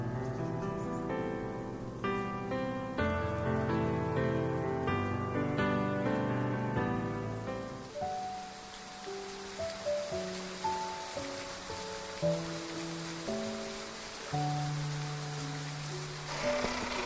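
Rain falling in the video game Love and Deepspace, a soft continuous patter under a gentle musical score, steady throughout and fairly quiet.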